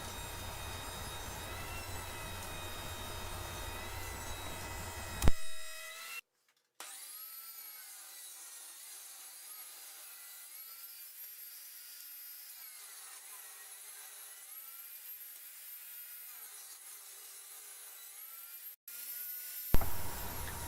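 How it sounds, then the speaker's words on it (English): A wood planer sizes thin strips of stock for a stair safety gate. A loud, steady whine runs from start to finish, interrupted by brief dips and thumps as each board feeds through. "right now I'm going through the planer"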